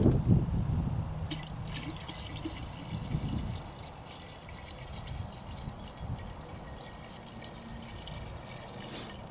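Gasoline pours into a container, a steady liquid trickle and splash that starts louder and settles into a softer, continuous stream, with no talk over it.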